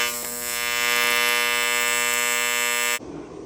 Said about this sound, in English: I'm just gonna fusion weld this entire seam around the outside.